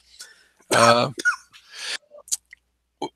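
One harsh, loud cough close to the microphone, followed by a few softer throat sounds and small mouth noises.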